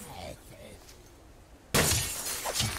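A window or pane of glass breaks in the game Cataclysm: Dark Days Ahead, in a mansion being looted. One loud, bright crash follows a quieter stretch and leaves a brief rattle of falling shards.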